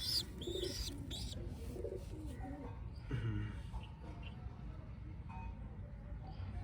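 Soft, low pigeon cooing repeats in short phrases, with a few chirps and quiet voices in the background.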